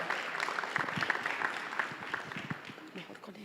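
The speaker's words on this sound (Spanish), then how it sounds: "recibamos al profesor Henry Mora con un aplauso" An audience at a CLACSO 2025 dialogue claps to welcome Professor Henry Mora, a moderate, fairly close patter of applause with voices speaking over it as it thins out.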